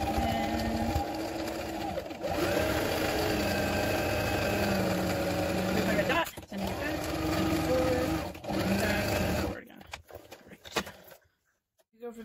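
A home sewing machine sews a straight stitch on a DIY surgical mask, running in several bursts separated by short stops, close by, with quiet handling noises as it winds down at the end.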